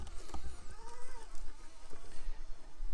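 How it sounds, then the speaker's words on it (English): A Furitek Stinger brushless motor fitted in a Traxxas TRX4M crawler whines close by, its thin tone rising and falling with the throttle over a steady rumble and scuffing, with no talking. "It's a little whiny, definitely louder than the stock motor."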